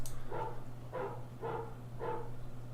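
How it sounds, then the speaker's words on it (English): Four evenly spaced, soft bark-like calls with a muffled, synthetic tone, over a steady low hum. "See, that sounds like a bark,"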